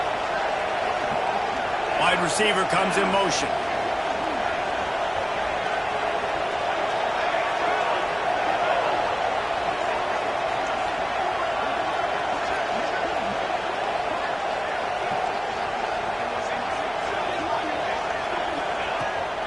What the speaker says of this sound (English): this crowd is deafening, trying to will the stop